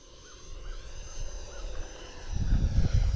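A Futura 64mm RC model jet making a low pass, its thin ducted-fan whine growing louder as it approaches, ending in a rushing, gusty roar as it sweeps close by.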